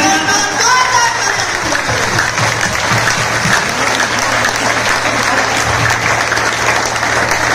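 A seminar audience in Rohtak gives a long, steady round of applause, dense and loud throughout with a few voices briefly audible near the start.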